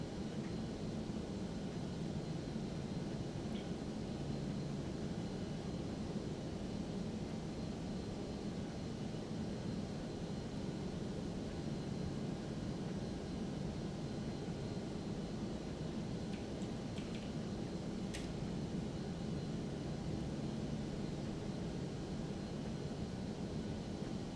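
Airbus A320 taxiing in the X-Plane 12 flight simulator: a steady, unbroken broadband engine roar and rumble holding at an even level throughout, with a few faint clicks and no speech.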